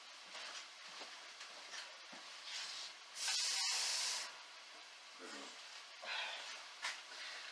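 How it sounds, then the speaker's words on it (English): Water added to a hot pan of turnip greens hisses and steams in a loud burst of a second or so, between quieter sizzling and brief bits of talk. "going to add a bit of water because I want this to kind of steam in here"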